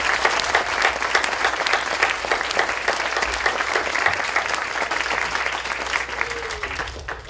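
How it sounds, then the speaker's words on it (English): A packed civic audience at the Sunnyvale State of the City 2016 breaks into loud, sustained applause for community volunteers, a dense, even wash of clapping that holds steady throughout with no voices over it. "let's have a huge round of applause for all of those volunteers"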